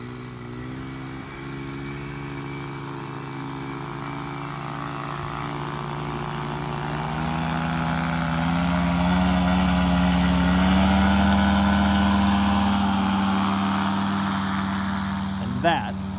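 Powered paraglider motor revving up for takeoff from an open field, a steady droning propeller engine that swells louder mid-clip and then eases, with a brief sharp bump near the end.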